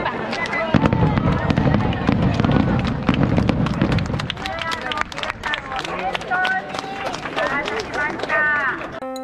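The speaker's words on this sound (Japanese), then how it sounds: "号砲が鳴らされ、花火も打ち上げられ" At the start of the Tokyo Marathon, fireworks pop and crackle in a steady series of sharp bangs over crowd noise and cheering, with people talking nearby.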